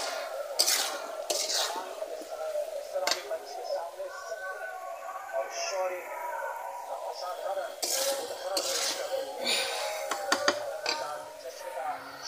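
Chicken pieces being stirred with salt in a cooking pot: repeated scraping and clinking of a spoon against the metal, with a low frying hiss underneath and a voice talking at times.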